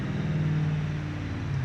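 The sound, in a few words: car engine revving in a racing video game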